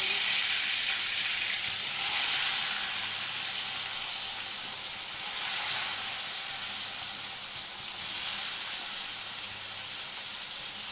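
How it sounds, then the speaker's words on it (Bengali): Several fish fried one by one in hot oil in a kadai, giving a loud, continuous close sizzle and hiss that swells in waves as pieces are added, with no voices. "কড়াইতে তেলটা গরম হতে দিয়ে দিয়েছি, গরম হয়েও গেছে। এবারে আমি একে একে মাছগুলো সব দিয়ে দেবো।"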